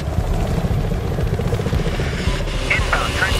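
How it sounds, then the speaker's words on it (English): A transport helicopter in the video game Battlefield Hardline drones steadily throughout with a continuous rotor thump, loud and close, with game radio voices speaking over it. "Inbound, transport helicopter."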